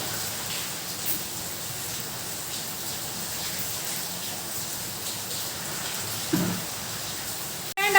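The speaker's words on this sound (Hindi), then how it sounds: "हमारे तरफ देखिए कितनी बारिश हो रही है, बहुत ही तेज़ बारिश" Heavy midday rain pours down in a steady, dense wash. A brief thump lands past six seconds, and a sharp click closes the passage.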